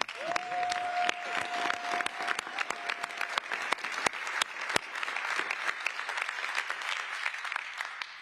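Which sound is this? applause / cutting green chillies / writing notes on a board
applause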